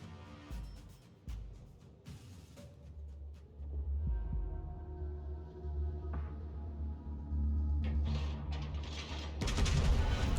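Heavy naval gunfire from the battleship HMS Duke of York in a naval video game, several deep booming shots over a low throbbing engine hum, with a loud close blast near the end.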